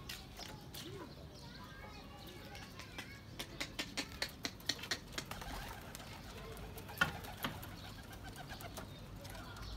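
Pigeons in a pigeon loft, with soft cooing and bird calls over a busy background, sharper taps and flutters clustering in the middle and scattered near the end, while people talk nearby.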